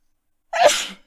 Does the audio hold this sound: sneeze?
yes